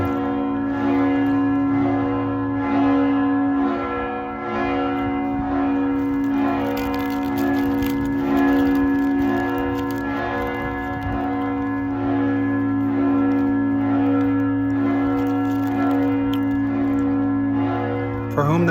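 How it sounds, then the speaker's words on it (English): Church bells toll in Bari Vecchia, Italy, a steady ringing with sustained overlapping tones that carry on for the whole stretch, loud and close, with faint crowd sounds underneath. "For whom the bell tolls."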